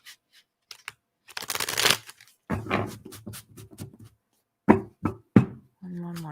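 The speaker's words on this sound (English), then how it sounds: "I'm going to do a couple more shuffles." A burst of riffling tarot card shuffles, close and crisp, among a few scattered taps and knocks, with short bits of voice near the end.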